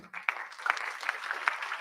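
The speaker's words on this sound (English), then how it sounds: "with your warm round of applause" Brief round of applause at a book discussion, a scattered patter of clapping hands at moderate distance, lasting under two seconds with no talking.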